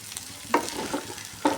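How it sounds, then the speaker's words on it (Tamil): Turkey berries (sundakkai) being sautéed in oil in a pan over medium flame for a kara kuzhambu, with a soft continuous sizzle and two distinct stirring scrapes, close and fairly quiet, no talking. "அந்த சுண்டக்காவை போட்டு நல்லா வதக்கணும்."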